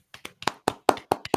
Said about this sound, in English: claps for producer Rosie